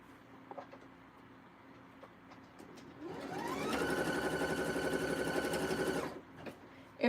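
Sewing machine stitching, motor rising in pitch as it starts and then running in a steady, even whir for about three seconds before stopping, close by with quiet room tone around it.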